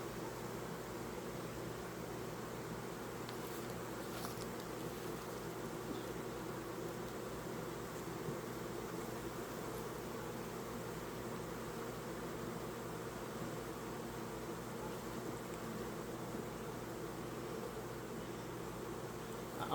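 Honeybees buzz steadily around an opened backyard hive during a frame inspection, a dense continuous hum that stays even and unbroken throughout with no voices.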